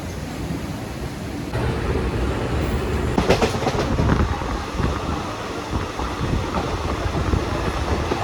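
Haldibari Superfast Express train crossing Farakka bridge, heard from on board as a loud, steady rumble with rhythmic clacking of wheels and wind noise, a burst of sharper rattling midway.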